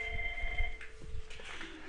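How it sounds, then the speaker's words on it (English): An IP phone on a Cisco CUCM 8.0 lab setup rings with an electronic tone during a call between phones, a steady tonal ring that shifts pitch partway through, close and moderately quiet with no talking. "Let's see if I can call another phone."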